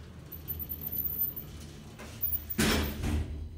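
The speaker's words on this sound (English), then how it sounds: "I just close the door first." Vintage, modernized Otis hydraulic elevator in a Macy's store, its door sliding shut with a broadband rush and thud near the end, against steady low machine hum; close and moderately loud, no talking.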